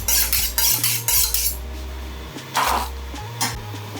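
Onions sliced on a board, a run of quick sharp knife chops followed by scattered clacks and a clattering utensil knock, close and fairly loud with no talking.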